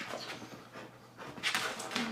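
An excited dog panting quickly and breathily close by, with a faint whimper mixed in, no one talking.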